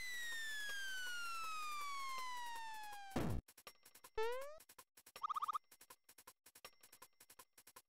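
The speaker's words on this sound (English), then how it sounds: "I love that Toadstool sounds like a police siren when she does that." Princess Toadstool's cry in Super Mario RPG, a loud falling electronic wail like a police siren that sweeps down over about three seconds, followed by short rising chirps, a warbling tone and rapid clicking game sound effects.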